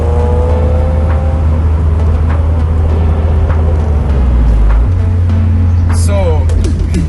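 A Mazda Miata MX-5, also sold as the Eunos, hums with a loud, steady low engine drone throughout and a brief shift in pitch partway, with a voice talking over it.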